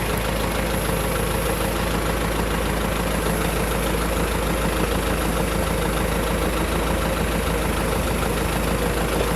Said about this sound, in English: Try to use the tractor to move it in